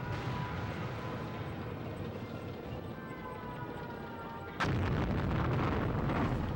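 A nuke going off in the N64 tank game BattleTanx: after a rumbling, steady stretch of in-game engine noise and music, a sudden loud blast hits and leaves a dense roaring rumble behind it.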